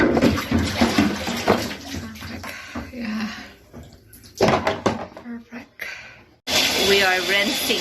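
Water runs into a bathtub while refrigerator parts are rinsed, steady splashing and hiss with clatter of parts, under nearly continuous talk and briefly cut off before resuming.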